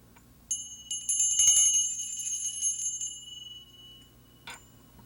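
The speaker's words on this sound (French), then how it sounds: "Je vais te montrer mes cloches. J'en ai une toute petite." A small bell rings clearly with bright, sustained metallic tones for about two and a half seconds, fading out, followed by a brief single tap later; close and fairly quiet, with no talking.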